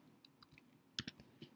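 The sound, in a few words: typing a username on a computer keyboard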